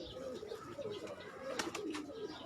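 Pigeons cooing on a champion pigeon keeper's rooftop loft, a steady low murmur of several birds close by, with brief brighter bursts of wing or bird noise partway through.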